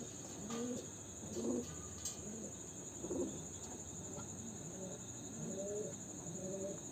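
Pigeons, a pair of adult birds, cooing in repeated soft low calls at a steady pace, with a constant high electrical whine and faint chirps in the background.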